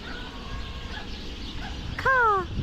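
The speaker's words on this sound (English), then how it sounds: "There's some birds up there." A bird overhead in a rural field gives a single loud, harsh, descending call near the end, cutting sharply above a steady low outdoor background.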